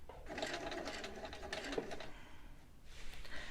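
A sewing machine runs in quick bursts while stitching a replacement zipper along the original seam line, with a close, rapid mechanical chatter that pauses briefly before starting again.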